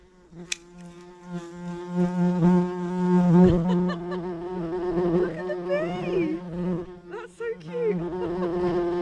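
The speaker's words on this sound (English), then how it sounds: "Look at the bees." Steady insect buzzing drones close by for the whole stretch, with wavering pitch as the insects move about.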